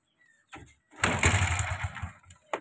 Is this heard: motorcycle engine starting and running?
yes